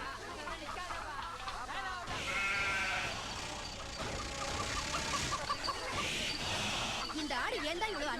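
Goat bleats, several quavering calls rising over a busy background of music and other farm-animal noise, with a rooster-like call mixed in; fairly loud and continuous throughout.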